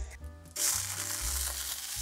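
Water drops hit hot cooking oil in a Teflon pan and burst into a sudden, loud, continuous sizzle and crackle that carries on steadily after a quiet moment.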